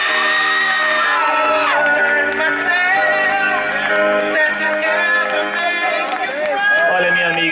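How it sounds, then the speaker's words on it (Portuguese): A crowd at a birthday celebration in São Miguel Paulista cheers and whoops loudly for the woman being honored, with a dense, continuous roar of voices and shouts throughout, and musical tones blended in. "Uma salva de palmas para nossa homenageada."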